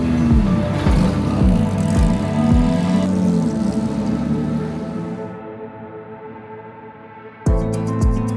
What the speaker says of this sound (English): lots of noise and prep behind us with all the Formula One cars getting ready